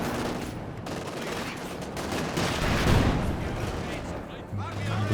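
Bazooka fire and explosions rumble in a Company of Heroes 2 battle, blending with dense gunfire and artillery in a continuous, loud wash of combat noise under a commentator's voice.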